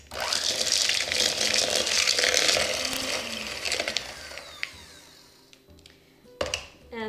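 Chocolate chip cookie dough being lightly mixed with a handheld electric mixer, a loud whirring buzz for about four seconds that fades out, followed by quiet clinks and a brief clatter.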